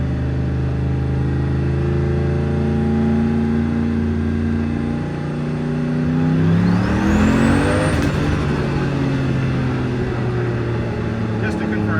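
A car engine held in first gear at about 30% throttle, a steady low drone whose pitch climbs gradually in the second half as the revs rise, loud and close.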